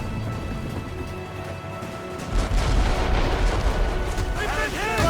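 Ship cannons firing in Assassin's Creed Rogue, heavy booming volleys rumbling in after a quieter start, layered with crackling debris and shouting voices during a naval battle.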